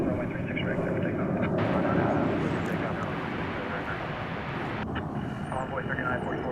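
An American Airlines jet takes off from runway 36 right at Dallas Fort Worth Airport, its engines producing a loud, steady roar that fills the whole stretch, with faint radio talk in the background.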